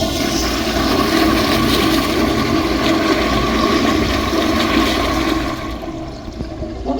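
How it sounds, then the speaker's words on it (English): A first-generation Crane (Trenton Potteries) Speedway toilet flushes with a loud, close, continuous rush of water that holds steady for several seconds, then eases slightly as the bowl refills. "Let's have a look at the bow rinse."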